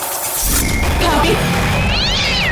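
A cat cries in a drawn-out, wavering meow that rises near the end, loud and close, filling most of the short moment after a brief quiet start.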